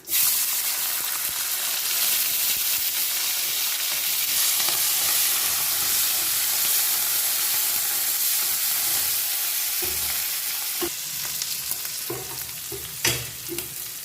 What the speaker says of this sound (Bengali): তেলের ভিতরে দিয়ে দিচ্ছি চিংড়ি মাছ